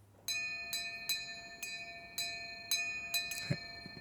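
Bell in a video game ringing in a steady, evenly spaced series of clear metallic strikes, about seven rings over four seconds, moderately loud with a faint thump near the end.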